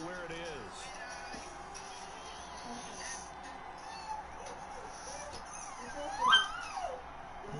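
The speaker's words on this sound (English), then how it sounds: "My dog's going crazy." A pet dog barks and whimpers excitedly indoors, with high yips and whines that swell near the end, mixed with Madden 21 football game sounds and background voices.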